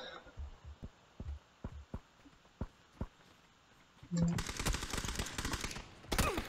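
PUBG gunfire comes as a run of dull, evenly spaced shots and then a dense, louder volley of rapid fire, while a person talks and laughs over the gameplay.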